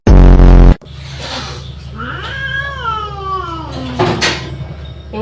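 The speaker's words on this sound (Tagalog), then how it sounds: "Yung may ingay na pusa," Stray cats caterwauling and meowing outdoors near a home, with drawn-out rising and falling yowls after a brief loud thump at the start, moderately close and continuous.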